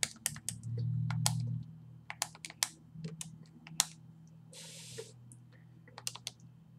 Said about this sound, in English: Typing this in the calculator, we put parentheses around the numerator and denominator.